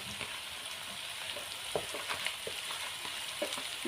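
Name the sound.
tomatoes and peppers frying with onion in a pot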